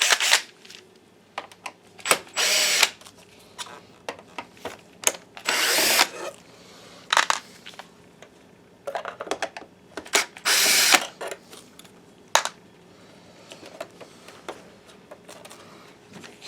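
A power drill runs in repeated short bursts, whirring and buzzing loudly up close, while screws come out of a Panasonic projector casing. Brief pauses separate the bursts.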